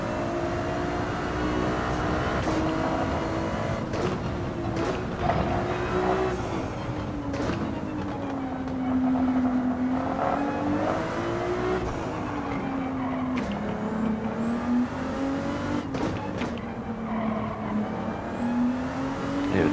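Tyre skid noise in Gran Turismo 7 after the Spec 3 update: a steady wavering squeal rides over the constant engine drone through the lap, with brief sharp transients from gear changes.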